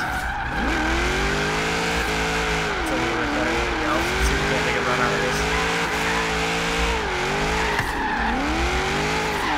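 A car drifts in Forza Horizon 3 during a drift session, its engine note rising and falling over long, steady tire squeal, loud and continuous throughout, with a voice talking over it.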